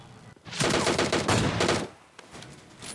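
A rapid burst of gunfire in the mobile shooter PUBG Mobile Lite, a tight string of loud, close shots lasting about a second and a half, followed by fainter scattered pops.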